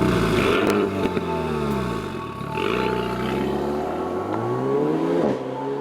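A Renault-owned Alpine A110 mid-engined two-seater sports car, 2019 model, revs its engine loudly and close, the pitch sweeping up and down through several throttle blips.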